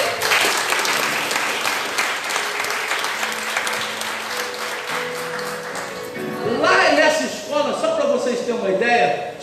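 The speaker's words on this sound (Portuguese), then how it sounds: "Será que você pode aplaudir o Senhor?" A congregation at an evangelical church in São Paulo, Brazil, applauds with sustained clapping that swells louder in the second half, over sustained keyboard tones and a voice.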